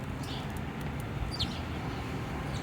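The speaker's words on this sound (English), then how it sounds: "the sound of birds was welcomed over the bustling street just steps away" Small birds chirp and twitter in short, scattered calls over a steady low rumble of nearby street traffic beside a Boston construction site.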